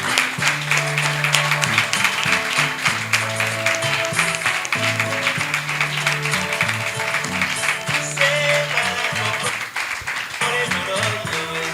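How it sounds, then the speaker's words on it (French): Audience applause welcoming a guest onto a panel show about music careers, a continuous patter of clapping mixed under loud, steady background music for the whole stretch. "Aidez-moi à le recevoir donc ici avec des applaudissements bien nourris"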